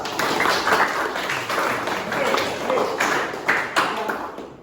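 Applause from a classroom of students, dense broadband clapping that runs steadily throughout at moderate level, with a few louder bursts and some voices mixed in.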